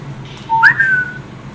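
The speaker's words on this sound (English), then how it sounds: "But as you whistle," A person whistles a short, clear tune: a brief low note, then a higher rising note that holds and falls away, all within about a second, alone against a quiet background.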